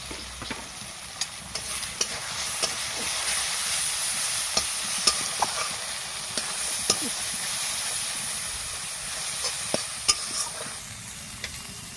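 Chili powder and turmeric powder stir-frying in a pan of oil with salt for a pointed gourd and prawn dorma, giving a steady close sizzle with scattered scraping taps of the spoon throughout.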